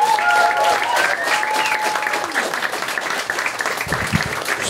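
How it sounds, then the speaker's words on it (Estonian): Loud audience applause at a stand-up comedy show as the performer is called to the stage, dense steady clapping with some whistles and a voice briefly heard over it. "ja teeme suure aplausi, kutsume lavale tänase õhtu põhivenna, see on Karl-Alari Varma"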